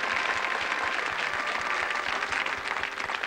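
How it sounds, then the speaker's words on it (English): A studio audience at a 1986 television game show applauds in a thick, continuous roar of clapping, loud and unbroken throughout. "Give them a round of applause."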